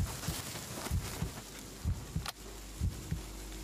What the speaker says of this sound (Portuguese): Eu tô com o coração batendo.